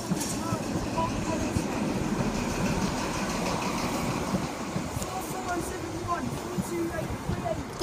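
A high-speed diesel train, power cars 43058 and 43060, rumbles steadily into platform 4 at Peterborough close by, a continuous heavy roar with faint rail clatter and voices mixed in.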